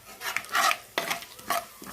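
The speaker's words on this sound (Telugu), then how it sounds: "తాలింపు చక్కగా వేగుతున్నాయి" Tempering seeds fry and crackle in hot oil in a pan for gongura pickle, with bursts of stirring scrapes and spoon clinks coming in quick uneven clusters, close up and fairly loud.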